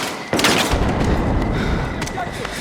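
Gunfire erupts in a Battlefield 6 firefight, a sudden burst followed by sustained rattling shots and booms that stay loud and close, with a few sharper cracks near the end.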